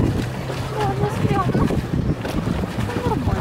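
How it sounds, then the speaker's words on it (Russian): A motorboat passing on the Dnieper river, its low engine drone and choppy wave wash heard close by under wind noise, while people talk throughout. "волны какие-то, потому что моторная лодка ездит"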